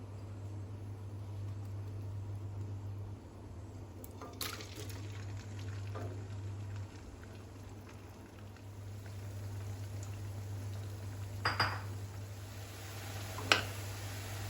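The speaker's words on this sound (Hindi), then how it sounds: "अब हमने यहाँ पर एक कढ़ाई में तेल गरम कर लिया है। अब हम अरबी को फ्राई कर लेंगे।" Peeled, lengthwise-cut taro (arbi) pieces fry quietly in hot oil in a kadhai over a medium flame, a soft steady sizzle with a low hum and a few brief clinks of stirring.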